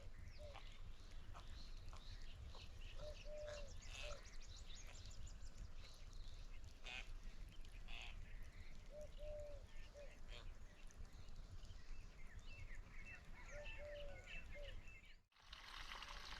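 Birds calling repeatedly in an open outdoor setting, with quacking, duck-like calls at intervals over a steady background hiss.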